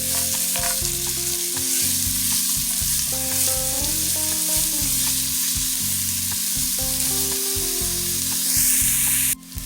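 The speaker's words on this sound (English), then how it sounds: "Now you want to add your onions in and let them saute for 3 minutes." Onions sauté in bacon fat in a pot for green beans and potatoes, a loud, continuous close sizzle with a tonal hum running underneath and a brief clatter at the end.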